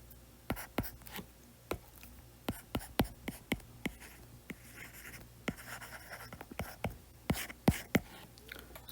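Pen scratching on paper while a physics solution on rotational motion is written out: rapid, irregular clicks and strokes, close and fairly loud over a faint steady background hum.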